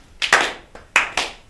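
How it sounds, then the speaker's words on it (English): A few quick claps from a school class in two short bursts, close and crisp, with no talking. "Give her one small clap."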